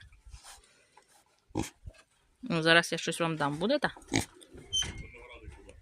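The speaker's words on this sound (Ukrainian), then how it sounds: "Ділові свині." Farm pigs grunt and oink at feeding time in autumn, with short snorts scattered between a woman's close speech.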